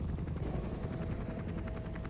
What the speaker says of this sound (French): C'est un hélico.